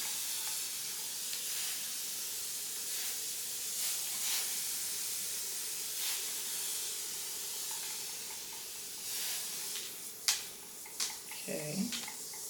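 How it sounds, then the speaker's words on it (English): A spray bottle mists water onto 4C hair during detangling, with repeated short bursts of hissing spray over a steady background hiss, fairly close, and a voice speaking briefly near the end. "spray, spray, spray again."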